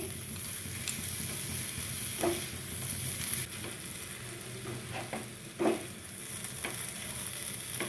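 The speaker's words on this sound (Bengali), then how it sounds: "এইভাবে সমানে নেড়ে যেতে হবে একদম ঝরঝরা করতে হবে" Semolina being stirred with sugar in a pan for a sweet rice offering makes a steady soft scraping and faint sizzle, with a few sharper spoon scrapes standing out, no talk.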